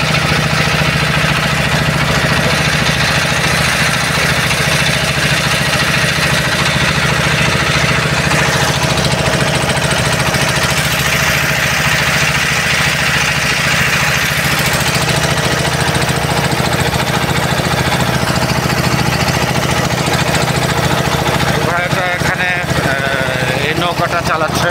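A passenger trawler's engine drones steadily and unbroken while the boat crosses the sea to Kutubdia on a foggy winter evening. A voice talks over the low, constant hum.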